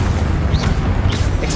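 Fiery Confringo spell blast in Hogwarts Legacy on PS5, a dense low booming burst with a crackling, whooshing tail, loud and steady throughout the short moment with no voice over it.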